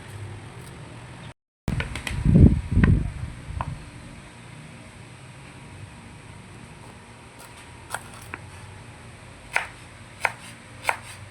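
A knife chops onion and ginger with a few heavy close knocks early on, then sparse sharp taps spaced out over a quiet background, with no voices.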